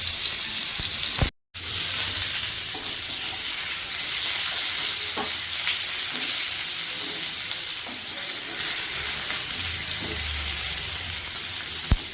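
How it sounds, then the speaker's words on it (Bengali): Potatoes fry in hot oil in a karai with a steady, dense sizzle that runs almost the whole time, broken by one brief silent gap near the start, with faint occasional clinks and no talking. "আমি আলুগুলো ভেজে নিচ্ছি।"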